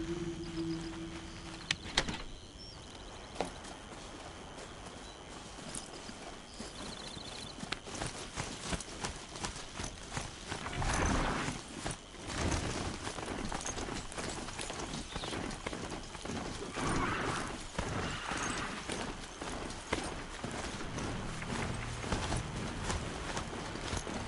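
Hooves clip-clop steadily in Horizon Zero Dawn as a horse walks along a trail, a moderate rhythmic patter with faint bird calls behind it and no talk.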